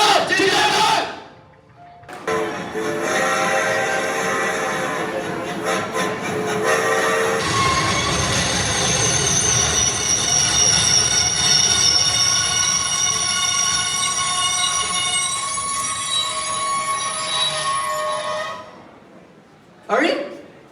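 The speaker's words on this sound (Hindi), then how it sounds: "अरे ये ट्रेन अचानक से जंगल के बीच में क्यों रुक गई?" A steam-era train in a 1925 dramatized Kakori railway scene grinds to a halt in a forest, giving a long, loud, steady metallic screech and rumble that ends abruptly, with crowd shouting mixed in.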